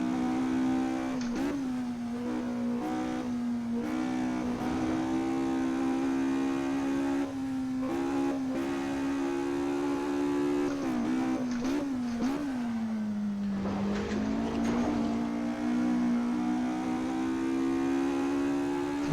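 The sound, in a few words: Ford Escort MK2 racing in the video game Assetto Corsa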